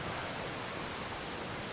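Steady rain falling in the fantasy game Skyrim, a broad even hiss of drops spread across the whole clip with no voices and no breaks.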